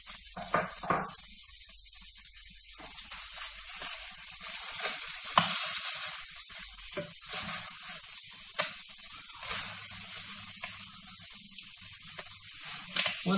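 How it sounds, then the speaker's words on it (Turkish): Liver frying in a pan with salt, pepper, cumin and chili flakes, a soft steady sizzle broken by occasional stirring scrapes and crackles, fairly quiet and without talking. "5 dakika kavuralım baharatıyla beraber."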